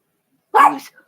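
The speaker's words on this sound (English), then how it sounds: "as my dog screams and barks because he's wondering, who's here?" A dog barks and whines indoors, one short yelping bark-whine burst after silence, close and fairly loud, followed by a faint trailing whimper.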